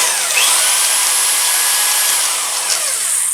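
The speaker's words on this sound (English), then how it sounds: "this is the drill mode without hammer" A power hammer drill runs continuously in drill-only mode without hammering, a loud, steady high-pitched motor whine that holds its pitch from start to finish with no talking.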